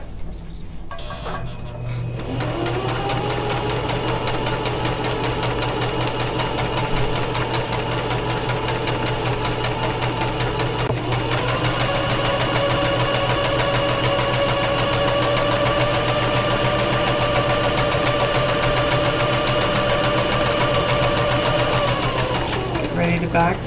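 A sewing machine runs forward in one long, loud, steady stitching pass, its motor hum rising in pitch as it speeds up near the start and again partway through.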